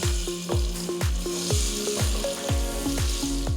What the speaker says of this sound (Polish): Na rozgrzany garnek ląduje oliwa z oliwek z pierwszego tłoczenia i tofu.